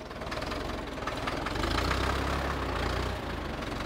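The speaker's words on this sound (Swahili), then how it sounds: "baada ya kumimina virutubisho vile, tutashindilia kwa kutumia trekta" A tractor engine runs steadily while compacting silage after additives are poured onto it, a loud, close, continuous knocking rumble with a deeper labouring surge in the middle, no talk over it.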